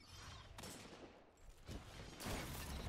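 Shotgun fire in a first-person shooter game: several sharp, loud blasts, with a heavy burst near the end, over a busy backdrop of game noise.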